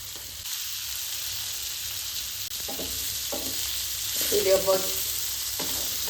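Masala-marinated tilapia fries in oil with a soft continuous sizzle, occasional stirring and light crackles swelling briefly midway; no voices.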